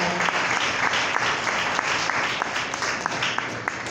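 A church congregation claps in praise during a sermon, a dense, even wash of many hands filling the room, steady and fairly loud throughout.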